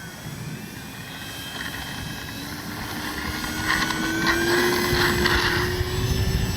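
A Kavan Bristell B23 RC model airplane takes off, its engine giving a steady whine that rises gradually in pitch and grows louder as it powers up, heard alone against outdoor background.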